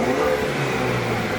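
A 2019 Chevrolet Camaro engine in city throttle mode holds its revs high after the throttle is released, a sustained, slowly easing mid-pitched engine note heard alone at moderate volume.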